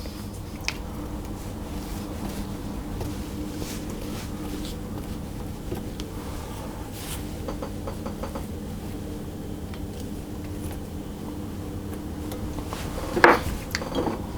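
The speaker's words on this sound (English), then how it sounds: "I'll scrape down the bowl to make sure we get the egg incorporated into everything" A spatula scrapes around a mixing bowl of egg and butter batter for a lemon butter cake, making soft, steady scraping under faint kitchen clatter, with a sharper clink near the end.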